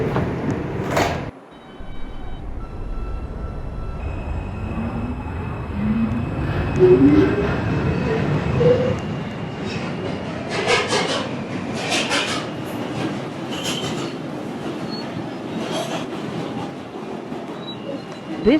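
A New York subway 4 train bound for Woodlawn rolls along with a steady loud rumble, wheels clacking over track joints and a squeal rising toward the end of the ride.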